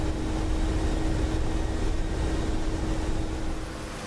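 Huey helicopter in DCS World flying over the Kola Peninsula, a loud, constant low rotor and turbine drone with a steady tonal hum, easing off slightly at the end, no voices.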